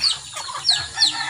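Chickens cluck in short, close bursts at a backyard where caged birds are kept, a few quick clucks repeating in under two seconds with no talk over them.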